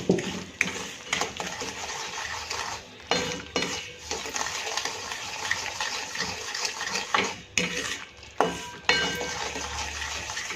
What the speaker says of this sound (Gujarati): હવે આપણે થોડી વાર ઘી સાથે પણ શેકી લઈશું બરાબર.